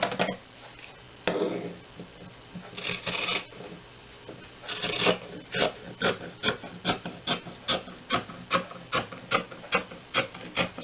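Fabric ends being trimmed for a junk journal cover, starting with scattered rubbing and handling noises, then a long run of regular, evenly spaced snipping cuts, close and fairly quiet.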